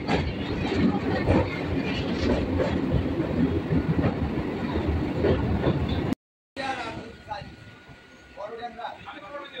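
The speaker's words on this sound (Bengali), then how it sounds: "আমাদের ট্রেন এখন ক্রস করছে চূর্ণী নদী।" A Ranaghat–Krishnanagar local train crosses the Churni river bridge with a loud, continuous rumble and rattle of wheels on rails. After a short break the sound turns quieter and more distant, and a voice speaks over parts of it.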